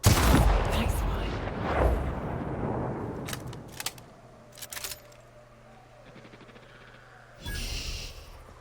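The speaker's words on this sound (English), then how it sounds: "The cannon." In the video game The Outer Worlds, a cannon fires with a loud, booming blast that decays into rumbling, followed by sharper clanks and a later burst.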